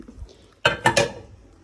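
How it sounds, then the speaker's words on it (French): Dishes, pots and pans being handled in a holiday rental kitchen, a quick run of three sharp ringing clanks of metal and crockery after a brief quiet moment. "Voici la vaisselle"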